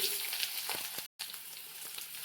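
Garlic and onion frying in a pan for an egg and cabbage stir-fry, a steady, bright sizzle with a brief gap in the middle, fairly quiet and close.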